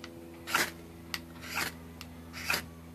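A stainless steel Mora knife spine scrapes along a ferro rod in three quick, close rasping strokes, with soft clicks between them and no talking.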